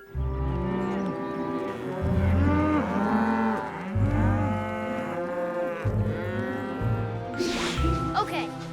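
Cartoon cows moo in long, deep, repeated calls near and loud, overlapping one another across the scene, with a brief bright clatter near the end.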